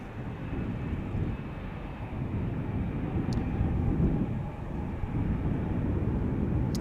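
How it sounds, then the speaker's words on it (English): A 12-year-old Atlas Air cargo plane bound for Seoul takes off from a runway at Amsterdam Schiphol, heard as a distant, steady jet roar that swells slightly as it goes on. "we're waiting for Atlas Air flight 8185 to Seoul to take off"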